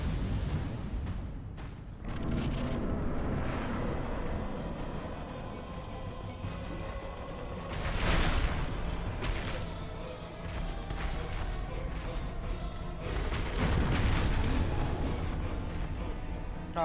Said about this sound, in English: Ah, nice explosion.